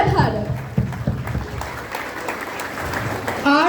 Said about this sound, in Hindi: तो आइए तालियों की गूंज के साथ इस खूबसूरत समारोह की शुरुआत करते हैं।